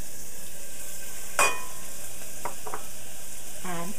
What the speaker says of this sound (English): That's already hot, so it's gonna start sauteing right away.